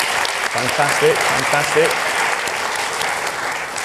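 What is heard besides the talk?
audience applause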